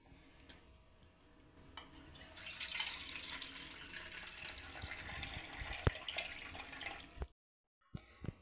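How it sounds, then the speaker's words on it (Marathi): Sago pearls being washed by hand in a bowl of water for fasting chakli, with faint sloshing and trickling that grows busier midway, then a short silence near the end. "थोडंसं असं व्यवस्थित असं मिक्स करून धुवायचं"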